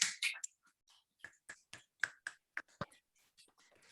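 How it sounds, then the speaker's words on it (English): Quiet applause on a video call: a dozen or so soft, light hand claps at an uneven pace, close and faint, with a few small breathy sounds between them. "I'm trying to clap quietly to avoid the auto muting."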